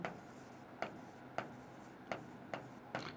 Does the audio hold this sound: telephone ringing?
no